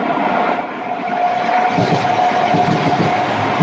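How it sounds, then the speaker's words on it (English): Passing train heard as a steady broadband rumble and rushing roar with a faint sustained tone, fairly loud and unbroken throughout, no talk. "Just as the train comes along."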